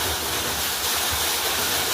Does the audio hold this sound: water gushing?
yes